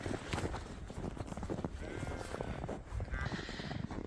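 Sheep bleat in a subzero winter homestead, a few short calls at close to moderate distance mixed with shuffling and rustling, faint overall, with people talking quietly nearby.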